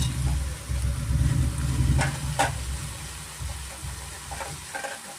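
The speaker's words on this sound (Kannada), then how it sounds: "ಸ್ವಲ್ಪ ನಾವು ಬೆಣ್ಣೆನಲ್ಲಿ ಸ್ವಲ್ಪ ಚೆನ್ನಾಗಿ ಪಾಲಕ್ ಸೊಪ್ಪನ್ನ ನಾವು ಚೆನ್ನಾಗಿ ಫ್ರೈ ಮಾಡ್ಕೋಬೇಕಾಗುತ್ತೆ" Chopped spinach fries in butter in a pan for palak paneer, giving a low continuous sizzle with stirring scrapes and a few brief clicks that fade toward the end.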